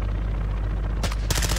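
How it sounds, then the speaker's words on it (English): In Call of Duty: Warzone, a helicopter arrives with a steady low rotor drone and dense rattling, then sharp bursts of rapid gunfire break in over it, loud and continuous. "Helicopter coming in."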